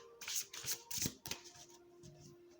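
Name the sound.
oracle cards being shuffled for a draw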